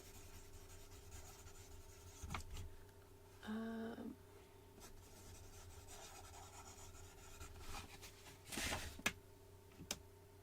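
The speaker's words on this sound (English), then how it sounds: "let me write Margaret on here" A pen writing a name on paper, faint scratchy strokes in short bursts with small taps between them, close and quiet against a low steady hum.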